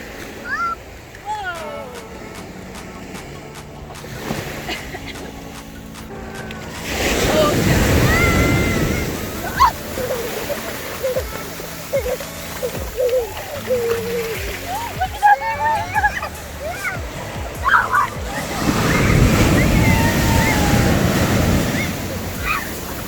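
Ocean waves crash and wash up on the sand at Balboa Beach, California, two big surges of broad roaring surf rising and falling amid wind noise, with children's excited voices and shouts in between.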